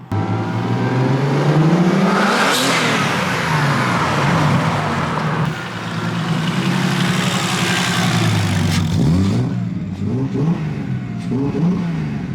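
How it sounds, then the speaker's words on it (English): A turbocharged car engine with a built engine revs and accelerates loudly and close by, rising in pitch with gear shifts and a steady throaty roar throughout. "These things turbo just sound so good."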